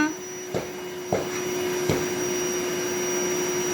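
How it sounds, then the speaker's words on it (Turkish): A child's toy vacuum cleaner hums steadily with a high whine as it is pushed across the floor, with three soft knocks early on against the constant drone. "Yerleri süpür Duru."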